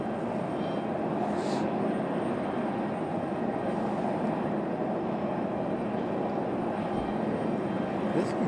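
A Southwest airliner passing at Raleigh-Durham International Airport, a steady, loud broadband jet roar that holds at an even level throughout, with a faint voice once or twice underneath.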